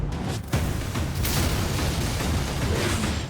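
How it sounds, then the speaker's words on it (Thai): A kitchen explodes with a loud, sustained roaring blast with a sharp onset, broadband rumble filling the whole stretch before easing slightly at the end. "ครัวระเบิด"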